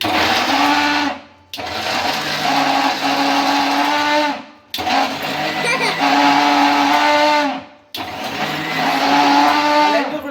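A kitchen mixer grinder blends watermelon for juice, seeds left in, roaring loud and close in three long whirring runs broken by short stops, with a little talk faintly underneath.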